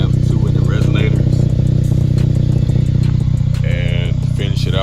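A 3.6 Dodge Charger or Challenger with Magnaflow-style Marvin TR mufflers and 2.5-inch piping rumbles loudly and steadily close by, a deep continuous exhaust drone with light clattering on top.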